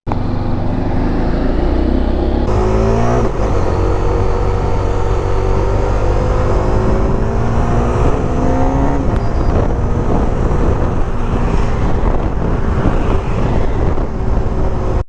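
A motorcycle rides along a road, its engine droning loudly and continuously with rising and falling revs as it shifts through gears, mixed with heavy wind rush.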